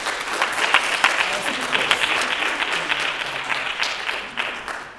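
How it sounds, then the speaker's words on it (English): A conference audience applauds its speakers steadily, many hands clapping in a dense, continuous wash that stays loud and even throughout. "give a really big round of applause for our speakers"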